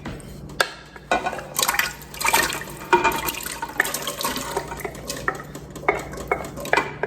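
Potatoes tumble into a soup pot for loaded potato soup, a run of wet clattering splashes and knocks against the metal, close and fairly busy, with no talk over it.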